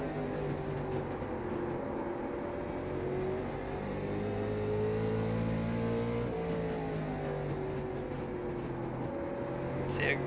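Late model race car engine lapping the Lanier track in iRacing at an easy pace, a steady droning tone with harmonic bands that shift slightly as the engine note rises and falls, continuous throughout.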